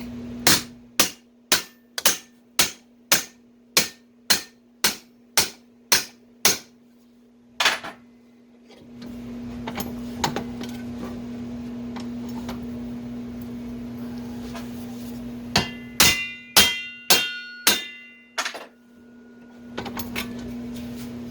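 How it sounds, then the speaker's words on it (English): A series of sharp, evenly spaced metallic taps from a hammer driving a shovel handle into its socket, then a pause and a few more hits over a low steady hum. "it's pretty snug, so I'm just going to tap that, and this should do the trick"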